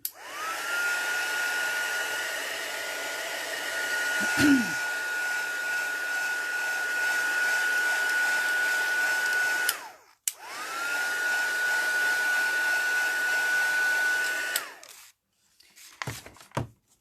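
A hair dryer blowing over wet acrylic paint, a steady loud whirring hum that runs for about ten seconds, stops briefly, then runs again before switching off, with no talk over it.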